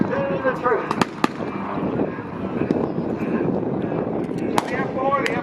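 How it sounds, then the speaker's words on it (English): Pyrotechnic blasts from a simulated Vietnam-era battle at the Wings Over Houston 2017 airshow boom out as sharp cracks amid a roaring aircraft and crowd noise, with a voice talking over it. "So there's a firefight breaking out"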